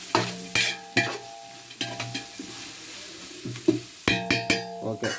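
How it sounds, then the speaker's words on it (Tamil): Onions fry in a little oil in a pot for a chicken biryani, a spoon scraping and clinking in bursts of stirring over a soft sizzle, close by with no talk. "இனி வெங்காயம் கொஞ்சம் நேரத்துக்கு வதக்க விட்டுடலாம்"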